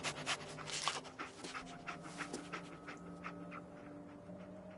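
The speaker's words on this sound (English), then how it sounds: "Dog meat. Get the scent, boy." Dogmeat, the dog in Fallout 4, pants quickly and rhythmically up close, with a faint whimper and quiet game ambience beneath.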